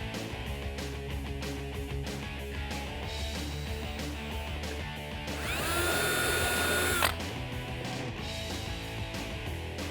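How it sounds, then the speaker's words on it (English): A power drill bores holes into a rear diffuser on a 2015-2021 Dodge Challenger, a brief loud burst of whirring over steady background music before it stops. "We're gonna drill a hole sort of on the far side, and then drill 1 to 2 more holes"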